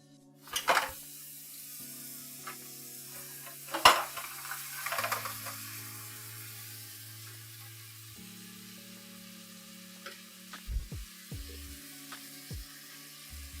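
Moussaka ingredients sizzle softly in a pan while being stirred, with a faint steady hiss broken by a few sharp scrapes and clinks of a utensil against the pan, no talking.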